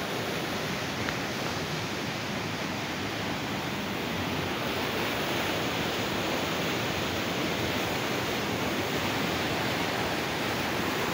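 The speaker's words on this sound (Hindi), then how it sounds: "पानी अपनी पूरी रफ्तार से चल रहा है" Canal water rushes at full speed through the Head Gulsher headworks, a steady, broad roar with no breaks, heard continuously and fairly close.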